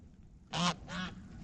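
Geese honk twice in quick succession as a small flock arrives near resting goslings, two loud nasal calls with a short gap between them, close by and with no talking.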